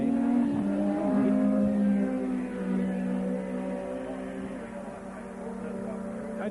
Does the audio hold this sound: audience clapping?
no